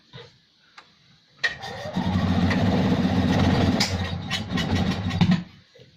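A three-wheeled Invacar engine on axle stands, choke at maximum, cranks with a few sharp clicks before catching into a loud, steady mid-pitched churning run that sputters near the end, close up with no talk.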